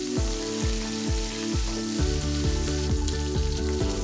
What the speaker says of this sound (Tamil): ரெண்டு பச்சை மிளகாய் போடுறேன். கூடவே இஞ்சியும் சேர்த்து போடுறேன். நல்லா வதக்கணும். இப்போ கருவேப்பிலை போடுறேன்.